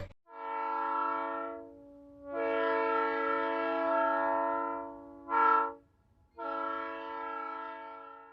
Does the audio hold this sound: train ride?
yes